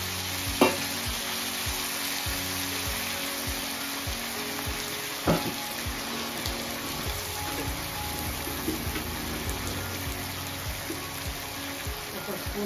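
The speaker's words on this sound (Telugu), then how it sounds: "ఫ్రై అయిన తర్వాత టమాటాలు వేసుకుంటున్నాను" Four large tomatoes go into hot oil in a frying pan while cooking eggplant curry, a steady loud sizzle with occasional scraping stirs and a couple of sharper knocks throughout.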